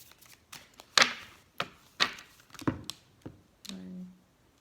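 Tarot cards being shuffled, a handful of separate riffling and tapping bursts spaced about a second apart, close and fairly quiet, with no talking.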